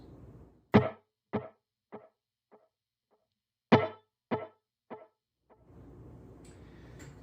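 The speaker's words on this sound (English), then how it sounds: "The second effect we'll be using is a dotted eighth note delay." Two plucked electric guitar notes each echo through a dotted eighth note delay in a series of quieter, evenly spaced repeats that fade away, with a soft sustained tone near the end.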